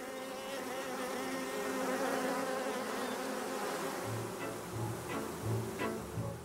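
Honeybees buzz densely at the hive in a steady, close, loud drone that holds throughout, with some individual bees buzzing nearer and louder toward the end.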